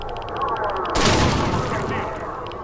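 Rifle gunfire in the video game STALKER, a burst of sharp shots and booming reports from about one second on, heard over ongoing game ambience.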